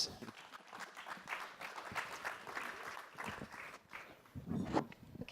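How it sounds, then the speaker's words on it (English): A conference audience applauds as a panel speaker is introduced, a faint, steady spread of clapping from a room of people at some distance, lasting throughout. "A round of applause."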